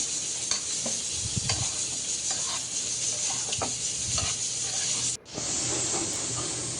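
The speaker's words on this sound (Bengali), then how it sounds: "এখন আমি সবজিটাও দিয়ে দিলাম তো সবজিটা আমি কিছুক্ষণ কষিয়ে নিয়ে" Vegetables with spinach paste sautéing in a pan, a constant close hiss of frying with intermittent scrapes and stirs, briefly cut off near the end before the sizzle resumes.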